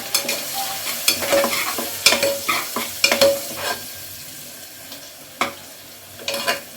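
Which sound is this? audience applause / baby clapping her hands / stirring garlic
stirring garlic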